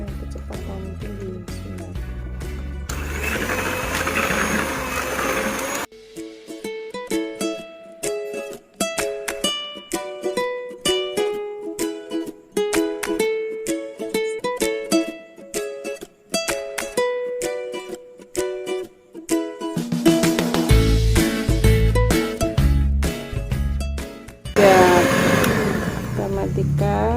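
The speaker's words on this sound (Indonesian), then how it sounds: "kita mengocok telur ya, kecepatan tinggi" An electric mixer whirs at high speed beating eggs for a banana sponge cake, heard in two loud buzzing bursts at the start and end, with a stretch of music playing in between.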